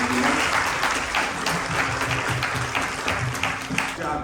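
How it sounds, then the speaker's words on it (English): An audience applauds at an evening Ramayan Yajna gathering at a Hindu temple in Orlando, a steady wash of clapping holding for a few seconds with a low hum and faint voices underneath. "Let's give our Vyasji a very big round of applause."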